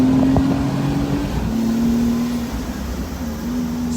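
Honda S660 sports car engine accelerating, a steady droning engine note rising slightly in pitch over a rumbling road and wind background, close and fairly loud, no talk.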